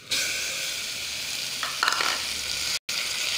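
Beef sautés with spices in a hot pan, giving a steady close sizzle. Brief stirring scrapes come through partway, and the sound drops out for a moment near the end.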